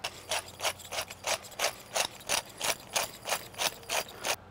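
A pepper mill grinds fresh cracked pepper in a quick, even rhythm of about a dozen close, crisp ratcheting twists, with no voices.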